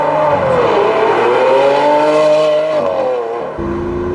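A Lamborghini Aventador SV engine revs hard while driving, a loud, smooth rising and falling howl that holds high and steady before dropping off with a brief shift near the end.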